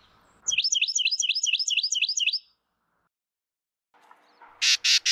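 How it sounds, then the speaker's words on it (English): Carolina wren singing alone, a rapid series of about a dozen bright, evenly spaced chirping notes in one burst, followed after a pause by several short, sharper calls. "Who knows, you may even get to hear its sweet chirps."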